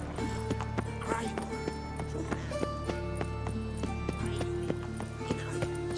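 Roach, the horse in The Witcher 3, clip-clops steadily at a walking pace, the hoofbeats rhythmic and close under game music, with voices speaking over them.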